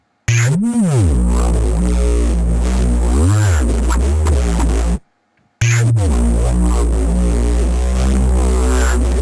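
A loud, thick synth bass riff, dry without hardware processing, with sliding pitch swoops and dense buzzy harmonics, briefly cutting to silence before the loop restarts.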